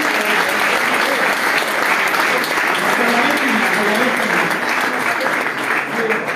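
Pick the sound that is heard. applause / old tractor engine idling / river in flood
applause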